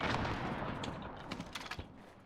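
A loud grenade explosion in Call of Duty: Warzone fills the opening, fading into a rumbling tail broken by a few sharp crackling pops near the end.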